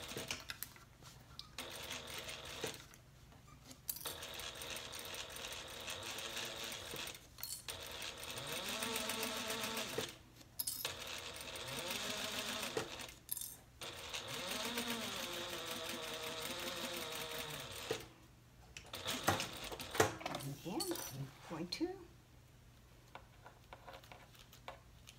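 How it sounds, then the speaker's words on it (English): A sewing machine running a 1/4 inch seam along the top of a handbag exterior side pocket with a Teflon foot, steady whirring stitching runs broken by several short pauses, close and fairly quiet. "we're going to sew just along the top with a 1/4 inch seam allowance"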